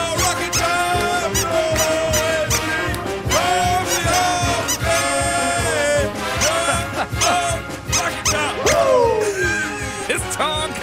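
A squeaky Smokey dog puppet toy gives repeated high squeaks that ride over a loud, dense, music-like background.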